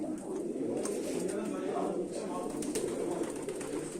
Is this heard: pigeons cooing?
yes